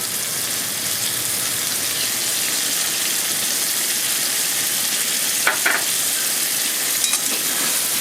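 Chili paste and spices fry in hot oil with a steady, dense sizzle close by, and a couple of brief utensil clinks break through near the end as the mixture is stirred.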